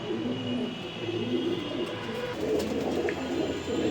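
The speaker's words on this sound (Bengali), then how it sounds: "এটা একটা নর কবুতর" A male racing pigeon coos close by, its low bubbling calls rising and falling in a continuous rhythmic rumble with a faint high hiss behind.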